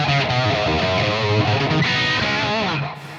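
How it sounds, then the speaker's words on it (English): An electric guitar plays through a Tonex preset with gain, giving sustained distorted notes with bends over a short phrase that fades out at the end, played alone and up close. "I'm using the Tonex software from IK Multimedia."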